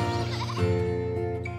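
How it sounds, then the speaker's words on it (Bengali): Lesser whistling ducks give nasal, wheezy whistled calls beside a railway station, a close flock calling continuously over a steady droning tone that may be a distant train horn. "এই হাঁসের দল শীষ দিতে দিতে উড়ান ভরে বলে এদের নাম লেসার হুইসলিং ডাক"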